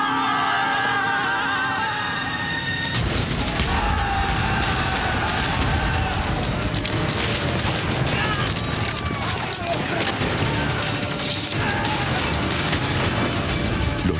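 Dense, continuous gunfire and heavy booming artillery shots roar throughout a staged battle, with voices shouting beneath the barrage.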